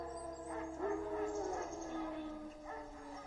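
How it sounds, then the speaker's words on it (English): Wild dogs in a fantasy video game bark and whine at a distance, a few yips and a drawn-out howling tone over a low ambient hum. "Wolves? No. Wild dogs."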